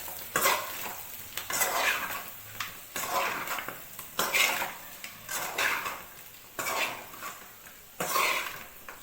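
Chicken fry sizzling in a pan and being stirred, with repeated scraping strokes of a spoon against the metal over a steady crackle, close and fairly loud.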